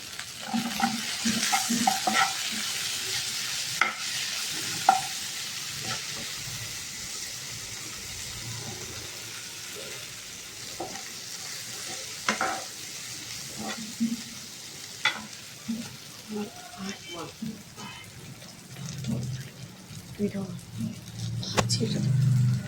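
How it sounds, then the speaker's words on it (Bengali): Cashews and raisins fry in hot oil with whole garam masala in a pan for jora chira, a steady close sizzle broken by repeated scrapes and clinks of stirring, with a few soft background sounds. "কাজুটা একটু ভাজা হয়ে যাবে"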